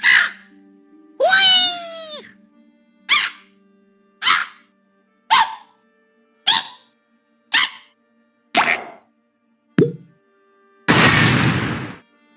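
The Matilda bird from the Angry Birds video game makes a series of about ten short separate squawks and cartoon calls, one long rising-and-falling cry, and a final broad noisy burst, each with silence between.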